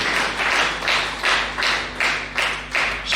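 A church congregation claps together in a steady, loud, rhythmic pattern, with repeated bursts close by and no talk.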